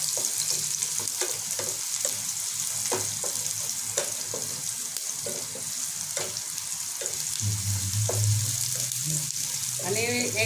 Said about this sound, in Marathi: कांदा टाकला आपण, त्याला मस्तपैकी फ्राय करूया कांद्याला